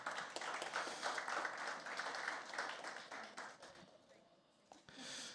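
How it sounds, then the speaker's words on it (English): An audience applauds at a South African Human Rights Commission event for International Human Rights Day 2020, a dense patter of clapping that slowly thins toward the end, with voices audible underneath. "You can give a round of applause, eh?"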